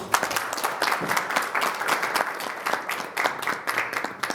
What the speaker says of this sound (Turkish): Onun için bir alkış alabilir miyim?